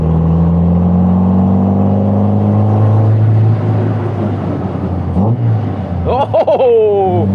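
Small open Austin-Healey sports car by Caton warming up, its engine note steady and loud, then dropping and rising again with sharp revving near the end, heard close over wind and cabin rumble.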